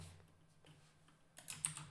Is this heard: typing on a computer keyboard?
yes